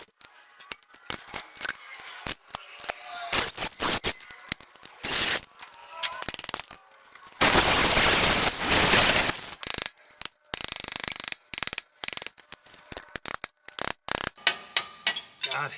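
Brake backing plate is pulled off a 10k Dexter trailer axle on an equipment trailer, with rapid metallic clicks, ratcheting, and sharp clanks, plus a loud, sustained burst of tool noise midway.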